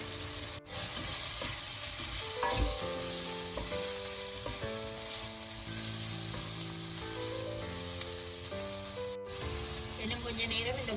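Onions, chillies and chilli powder sauté in a pan for veg puttu kothu, giving a continuous frying sizzle with occasional stirring, set against a steady tonal background.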